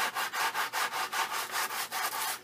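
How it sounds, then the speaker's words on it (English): A medium-grit 3M sponge sanding pad scrubs across freshly painted canvas in a steady, loud back-and-forth rhythm of about a dozen close, rasping strokes. "And I have a 3M sponge sanding pad."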